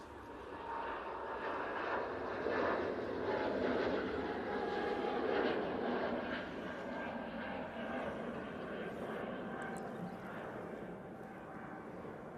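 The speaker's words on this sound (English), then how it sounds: "And have this 321neo now for Jet2 going off to Geneva." A Jet2 Airbus A321neo departing Manchester Airport, its jet engines making a steady, broad roar that swells and then slowly fades as it climbs away into the distance.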